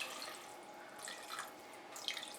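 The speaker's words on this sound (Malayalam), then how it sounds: "ഒരു കപ്പിൻ്റെ അടുത്ത് 1 കപ്പ് വെള്ളം ഒഴിച്ച് കൊടുത്തിട്ടുണ്ട്" Water is poured into beef curry in a pressure cooker for Malabar-style beef rice, a soft, steady trickle and splash that stays faint and close, with no talking over it.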